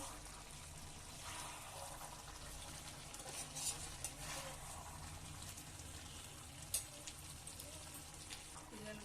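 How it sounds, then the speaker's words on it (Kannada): Chicken liver rice fries quietly in a pan with a faint, steady sizzle, and occasional scraping and clinking from stirring, a few sharper knocks against the pan, all soft and close. "ತಡ ಹತ್ತದಂಗೆ ಇದನ್ನ ಆಗಾಗ ಈ ರೀತಿ ತಿರುಗಿಸ್ತಾ ಇರ್ಬೇಕು, ಈ ತರ ಫ್ರೈ ಮಾಡ್ಕೊಳ್ತಿರ್ಬೇಕು"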